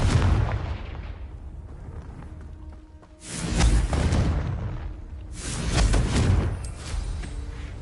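Confringo blasting curses from the Hogwarts Legacy video game explode in two loud booming bursts with rumbling tails, separated by a few seconds of quieter game ambience.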